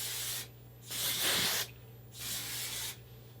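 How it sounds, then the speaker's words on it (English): Two short bursts of hairspray misted onto freshly curled hair, close and crisp, each hiss lasting under a second with quiet gaps between. "now I'm gonna add a little bit of hairspray so that my curls can last longer"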